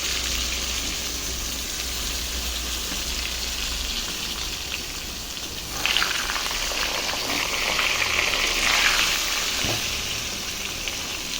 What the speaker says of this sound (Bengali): গোটা গোটা আলুগুলো আমি ভেজে নিচ্ছি।